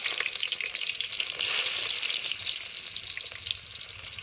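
Mustard seeds, onions and garlic fry in hot oil in a pan, giving a steady close sizzle and crackle that runs throughout with small pops, swelling slightly in the middle.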